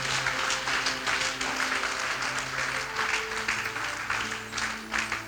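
A church congregation claps steadily and loudly, dense applause filling the space continuously, with sustained musical keyboard tones underneath.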